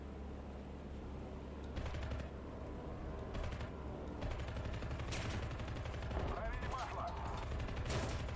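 Bursts of machine gun fire from a bomber in War Thunder chatter in repeated short rattling volleys over a steady engine drone, fairly faint under the game's noise.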